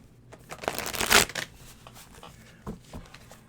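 Close, crisp riffling of a deck of tarot cards being shuffled, a quick burst followed by a few softer flicks and taps.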